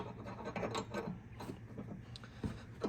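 A bolt on a weight distribution trailer hitch being tightened, with a series of faint, close, irregular mechanical clicks and ratcheting rubs and no talking.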